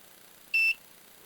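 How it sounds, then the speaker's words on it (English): A single short electronic beep from a soldering station reaching 400 degrees Celsius, clear and steady for about a quarter second, in an otherwise quiet room. "And all the iron has 400 degrees Celsius when it beeps."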